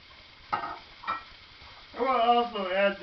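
Green beans and julienned carrots are stir-fried in a pan with garlic, with a faint sizzle and two soft scraping stirs, and a person talking briefly near the end.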